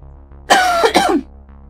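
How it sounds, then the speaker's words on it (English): One person gives a short, harsh cough close to the microphone, two quick bursts in a row against a quiet indoor hum. "I need a cough again."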